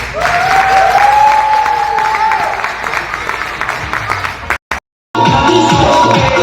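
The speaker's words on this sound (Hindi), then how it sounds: "ट्विंकल के लिए जोरदार ताली बजाओ" An audience applauds with dense, steady clapping that cuts off briefly and then resumes, with a whistle-like tone over the first part and some crowd noise mixed in.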